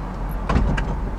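Power door mechanism on a 2003 Chevrolet Blue Bird Micro Bird Type-A school bus, a brief close electric motor whir and mechanical clunk against a low idling rumble.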